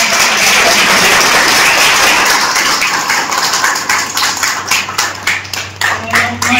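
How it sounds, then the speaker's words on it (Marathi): An audience at the inauguration of a youth camp claps loudly for a guest, a dense wash of applause that thins into scattered, uneven claps toward the end. "त्यांना जोरदार टाळ्या"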